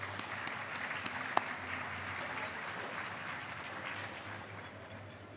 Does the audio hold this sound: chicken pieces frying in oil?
no